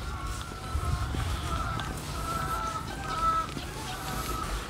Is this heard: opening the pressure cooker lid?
no